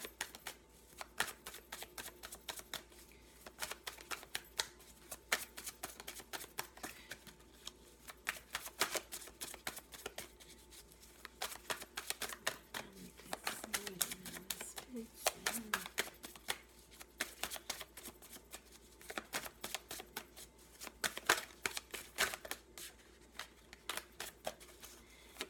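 Tarot cards shuffled steadily and close up, a long run of crisp, rapid riffling clicks and flutters that comes in quick bursts and keeps going with no pauses.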